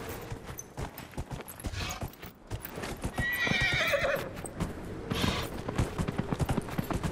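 A horse galloping in Dragon Age: Inquisition, rapid steady hoofbeats up close with a whinny midway and game ambience underneath, no talking.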